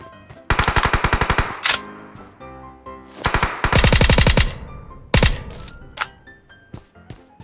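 Automatic weapon fire sprays in the mobile shooter game PUBG Mobile: loud rapid bursts of gunfire, each followed by a few isolated single shots and short gaps. No talking.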